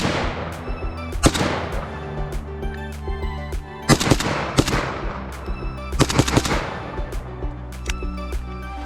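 Rapid, sharp reports from an AK rifle fitted with a JMAC FRD or Lantac Dragon muzzle brake, fired outdoors in loud bursts and single shots with ringing decay between them.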